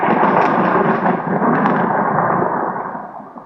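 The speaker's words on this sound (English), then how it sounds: "This creates a boom of thunder." Thunder booming from a storm, a loud, sustained low rumble that rolls steadily for several seconds with a couple of sharper cracks before slowly fading at the end.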